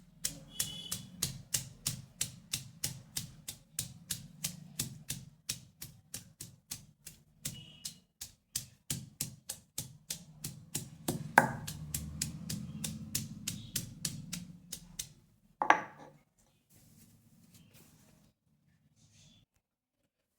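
Coriander leaves, mustard seeds and salt are ground together into a chutney paste by hand, a close run of fast, even rhythmic strokes that slows and stops, followed by quiet handling.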